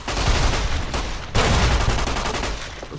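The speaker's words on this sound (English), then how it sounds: "Oh god, explosions" Explosions and gunfire in the Fallout New Vegas video game, a loud continuous barrage of blasts and rapid shots with a fresh heavy burst partway through, close and overwhelming.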